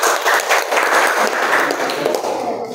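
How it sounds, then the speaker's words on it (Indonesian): Schoolchildren in a high school classroom clapping for a group coming forward to present, a steady, fairly loud burst of many small hands that continues throughout with little variation. "Anak-anak yang lain, berikan tepuk tangan kepada kelompok 1."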